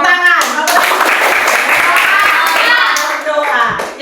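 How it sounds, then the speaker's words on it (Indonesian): Primary pupils clap their hands together in class, a busy burst of claps mixed with children's voices that fades slightly at the end. "Ya, tepuk tangan."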